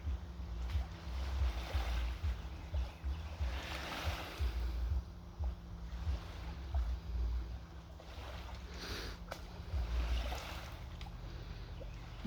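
Gentle water lapping at a lakeshore, a steady low wash with soft irregular splashes rising and falling throughout, fairly close and continuous with no voices.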